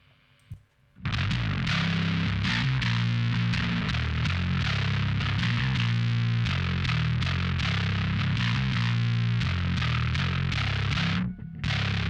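Gritty fuzz bass played through the pedal without an amp plays a steady riff, buzzy and bright but somewhat thinner, continuous and loud after a brief quiet start.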